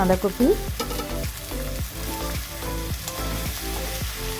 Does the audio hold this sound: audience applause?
no